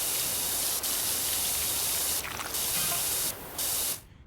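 Jet spray washing in a simulator video game: a loud, steady high-pitched hiss of pressurized water that breaks briefly a few times before cutting off near the end, with no voices.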